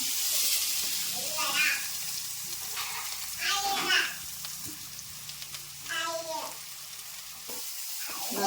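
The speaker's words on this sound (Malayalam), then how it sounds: "രണ്ട് കടുക് പൊട്ടി നമുക്ക് ഈ മസാല ഇട്ട് കൊടുക്കാം" Hot oil sizzles steadily with bursts of crackling as mustard seeds splutter and pop for mushroom thoran, with brief stirring sounds and a voice speaking in between.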